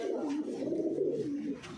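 A prize-winning racing pigeon coos nearby, a soft, throaty, rolling call that lasts for under two seconds and stays fairly quiet and close.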